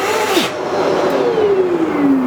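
A repaired Festool vacuum cleaner runs with a loud, steady whine and a tone that slowly drops in pitch as the motor settles, continuous and close, with no talking.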